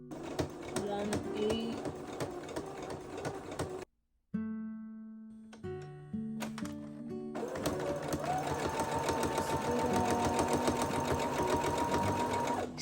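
A sewing machine runs a French seam on nightgown fabric, a close, rhythmic whirring stitch that pauses briefly, resumes in short bursts, then carries on steadily.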